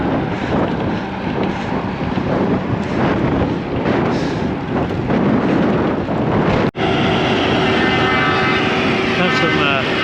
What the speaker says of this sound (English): into the headwind